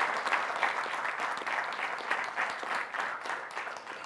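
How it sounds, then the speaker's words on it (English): Steady audience applause for a group of young leaders at an evening awards-style event, a dense even wash of many clapping hands heard alone without talk, moderately distant. "A big round of applause for"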